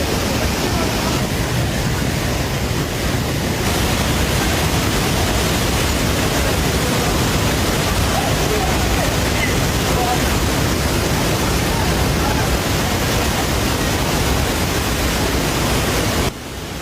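Courtallam waterfall in flood after heavy rain, a dense, loud, unbroken roar of rushing water filling the scene without letup, cutting off abruptly at the end.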